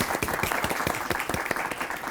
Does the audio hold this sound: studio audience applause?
yes